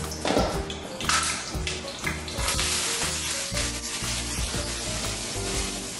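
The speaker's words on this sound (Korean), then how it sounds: "빠르게 야채를 볶아주는 요거로 저어서 타지 않도록 해줍니다." Vegetables stir-fried fast in a hot oiled pan, a utensil stirring them as steady sizzling and scraping fills the whole stretch, close and fairly loud with no talk.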